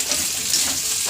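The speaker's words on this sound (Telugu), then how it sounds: "ఇప్పుడు వేయాలమ్మ టమాటాలు" Tomatoes sizzle and fry in a hot pan of oil while a prawn coconut curry is cooked at home. A short, steady crackling hiss sounds close by.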